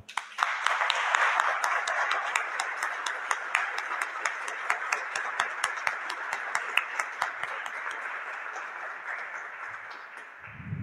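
A crowd applauds steadily for about ten seconds, with dense, even clapping that fades slightly toward the end.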